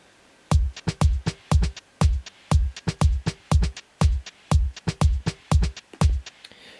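Funky GarageBand Apple loop preview, a punchy, rhythmic pattern of short sharp hits with deep low end, playing alone in a steady groove after a brief silent start.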